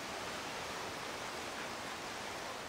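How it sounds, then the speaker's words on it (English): Waterfall in Monster Hunter Rise, a steady, unbroken broadband rush of falling water, loud and close, with no voices. "Can we go up this waterfall?"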